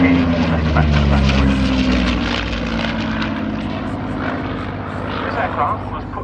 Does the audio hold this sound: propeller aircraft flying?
yes